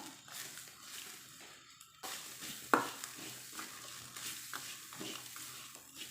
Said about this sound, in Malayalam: നമുക്ക് ഇത് വറുത്തെടുക്കാം